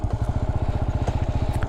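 A motorcycle on a low-speed slalom training course pulls away, its engine chugging in a close, rapid and regular pulse with light mechanical clatter.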